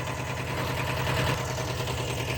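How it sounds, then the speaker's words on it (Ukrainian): A small tractor engine runs steadily at a construction site, with a close, loud, even low-pitched chug and rattling vibration throughout and no voices. "Так що, друзі, тракторець дерчить."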